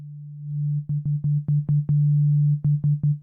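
Novation Peak synthesizer oscillator producing a pure sine-wave tone, a steady low hum played in a rhythmic series of short retriggered notes with clicking attacks, nothing else audible.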